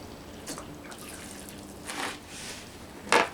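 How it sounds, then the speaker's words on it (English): Water is poured onto potted plants in a greenhouse: scattered drips and splashes, a soft trickle, and one sharper splash near the end, all fairly close and quiet. "Let me get a little water on these"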